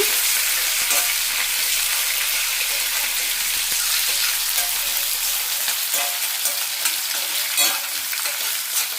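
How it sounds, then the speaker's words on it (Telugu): Ginger pieces and onion fry for upma in hot oil, a loud crackling sizzle with intermittent stirring scrapes, close up and without talk. "అల్లం ముక్కలు వేసుకుంటే ఉప్మాలో చాలా బాగుంటుంది. ఇది బాగా వేగిపోవాలి."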